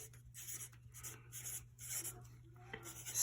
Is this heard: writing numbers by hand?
yes